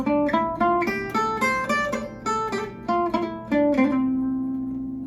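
A short melodic phrase plucked on a guitar, notes stepping up and back down, ending on a sustained ringing note that fades out.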